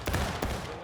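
Infantry volley of musket fire in the Civil War game War of Rights: a cluster of loud, near shots cracks out early, then another blast follows, with a rolling rumble carrying under a voice.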